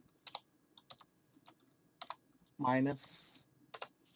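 Computer keyboard typing while working in an Excel spreadsheet, with separate clicks of the keys spread across the clip and a short burst of speech near the middle.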